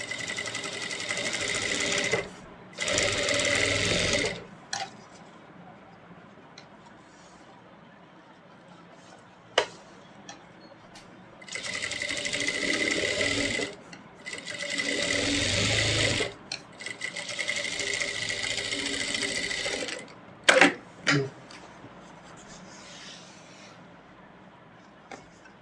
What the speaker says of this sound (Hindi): अब देखो हम एक स्टिच लगाएंगे, एक सिलाई लगाएंगे।